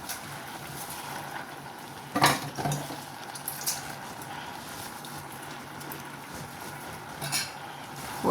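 A ladle clinks and scrapes in a pot as spinach (kuppaimeni greens) is stirred into simmering dal sambar, with a soft bubbling bed and a few louder metallic knocks.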